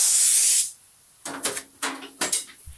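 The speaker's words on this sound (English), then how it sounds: "we'll give it a spray off with an air hose and spray the paper off also" An air hose sprays compressed air off the lapped heads of a Tascam 122mkII cassette deck, first a loud steady hiss and then several short, quick blasts.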